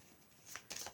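Tarot cards from the major arcana riffled in two quick bursts of crisp papery flutter, close and fairly quiet, with no voices.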